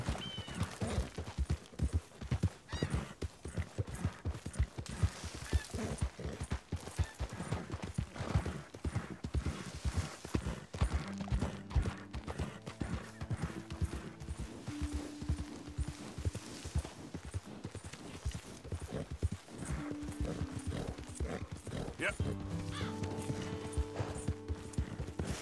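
Horse hooves clip-clop steadily on the ground in Red Dead Redemption 2, a continuous rhythmic trot lasting throughout, fairly quiet, with faint tonal game sounds entering later.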